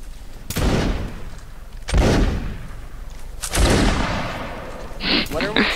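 Line infantry musket volleys in Napoleonic Wars: three loud, booming volleys about one and a half seconds apart, each trailing off into a rolling echo, with a voice briefly heard near the end.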